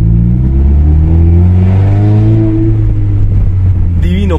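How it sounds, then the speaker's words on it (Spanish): A Honda car engine revs loudly and steadily through a rumbling modified exhaust, its tone rising and falling, with a brief higher whine near the end. "muy hermoso como suena este carro"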